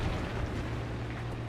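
Artillery barrage in War Thunder, realistic tank battle, heard as a continuous loud rumbling roar of distant explosions blending into a steady low wash with no clear separate blasts.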